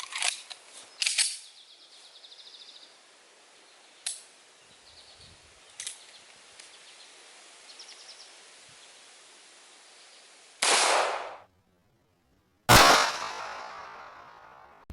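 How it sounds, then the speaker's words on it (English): A .45 ACP pistol fired at a Level 4 armor plate, with a few widely spaced shots: small cracks early, then two loud, close blasts near the end with brief reverberation between stretches of near silence. "Let's step it up to 45 ACP, the pistol round that won 2 world wars."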